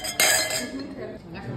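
Glasses clink together in a toast among friends in Lisbon, one sharp bright chink followed by a fading ring over low background chatter and room noise.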